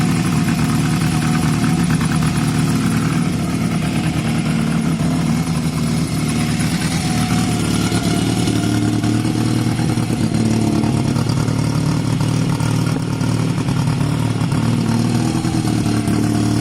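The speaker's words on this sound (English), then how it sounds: "Bike sounds so healthy though," A Honda CB250 motorcycle engine, a bobber project with fresh carburettor work, runs steadily close by for the whole stretch, a continuous loud idle with mild rises in revs and no talking.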